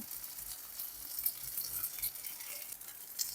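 Cumin paste goes into a pan of frying bata fish, and a steady, soft sizzle hisses throughout, with faint stirring ripples and no voices.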